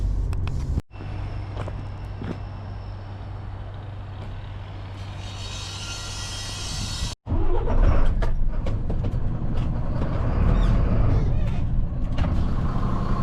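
An old heavy truck hauling a skip loader turns around in a busy storm-hit yard, its engine rumbling steadily and close, with a brief cut and an air-brake-like hiss before it pulls up amid clattering movement.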